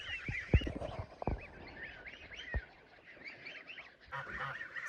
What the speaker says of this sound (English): Oh, that's the small goose.